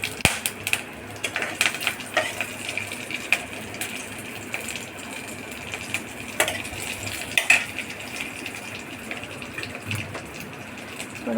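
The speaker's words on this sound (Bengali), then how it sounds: "হালকা একটু নাড়াচাড়া করবো এটা।" Green and dried chillies are stirred lightly in hot oil for a soybean muitha dish, a soft sizzle under scattered close clicks and scrapes of a utensil against the pan, with no speech.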